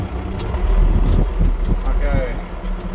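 Land Rover Perentie 6x6 truck engine pulling in third gear low range, a steady low rumble with rising and falling load, close by, with brief speech over it.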